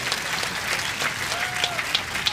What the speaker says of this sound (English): Even Melissa McCurley applauding that one.